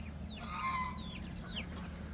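A flock of chickens clucks and chatters in an outdoor pen, with a few rising calls standing out over a steady low background hum.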